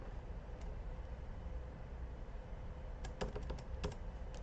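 Fast keystrokes on a computer keyboard, a few scattered clicks early on and then a denser burst of close, crisp typing over a steady low background hum.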